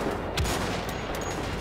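A single sharp sniper rifle shot cracks out in the video game Wolfenstein: The Old Blood, a short loud blast rising above dense, steady in-game background noise.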